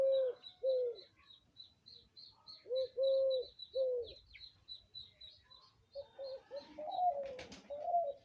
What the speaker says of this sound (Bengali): ধল্লা ডাকতেছে